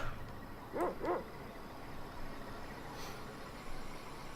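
In the SNES video game Secret of Evermore, a dog gives two quick, close barks in succession, followed by quiet game ambience with a faint later sound effect.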